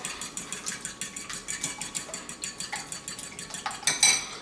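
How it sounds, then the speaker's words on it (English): Eggs beaten in a bowl, a steady rapid clinking of utensil against the dish in a brisk rhythm, close and fairly quiet, with a louder knock near the end. "So the eggs, we are going to give them a good mix, scramble."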